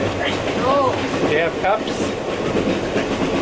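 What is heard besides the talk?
Trans-Siberian train rolling on rails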